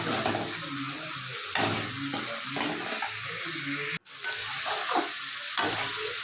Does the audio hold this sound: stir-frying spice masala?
yes